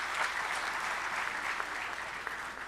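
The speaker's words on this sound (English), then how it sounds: "It calls for a huge round of applause from you," Audience applause fills a hall at a national meeting of legal services authorities, a steady, dense clatter of many hands held evenly throughout with no talk over it.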